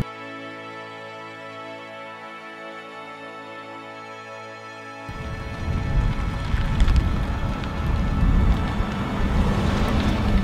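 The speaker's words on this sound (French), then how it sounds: "il y a la pluie qui tombe." Rain falls steadily outdoors on a film shoot, a loud broadband hiss with scattered drop impacts that starts abruptly midway after a stretch of electronic tonal hum.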